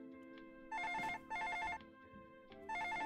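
Telephone in the video game Hell Pie rings in repeated two-tone electronic bursts, three clear rings spaced about a second apart over quiet game background with no talk.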